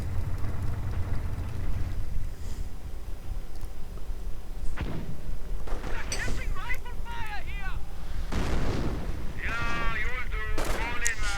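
Battlefield gunfire in Company of Heroes 2, a World War II strategy game, with sniper and rifle shots cracking in scattered bursts over steady low rumble while a commentator talks throughout.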